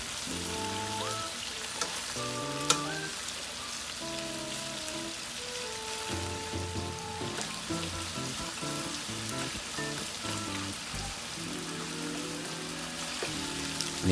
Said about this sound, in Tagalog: nagisa ko na yung bawang tsaka sibuyas, pwede ko nang i-mix yung chicken